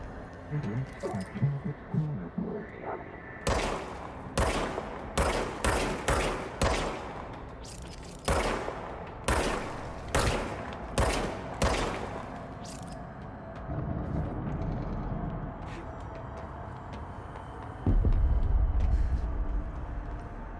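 Gunfire in the video game Control, with loud repeated sharp shots in quick bursts and single cracks across the middle stretch, then a lower rumbling roar near the end.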